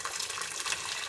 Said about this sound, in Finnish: Ja laitetaan tähän kuumaa vettä.